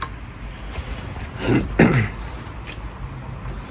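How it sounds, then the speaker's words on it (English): Two short, harsh coughs close together around the middle, with quiet background before and after. "Sorry about the coughing."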